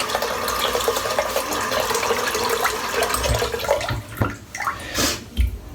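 Water runs steadily from a tap as a head is wetted before shaving, a continuous close splashing that breaks up near the end as hands move through the stream.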